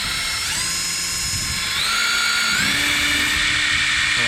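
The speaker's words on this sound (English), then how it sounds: "Just gonna make a little pilot hole right in the middle and then drill it out" A power drill bores a small pilot hole into a brass cap over an outboard motor's air mixture screw, a close, steady high whine that steps up in pitch as the bit bites, with no talking.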